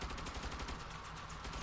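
Rapid gunfire from a turret fight in the video game Saints Row, a dense, continuous rattle of shots at steady loudness, busy and unbroken throughout.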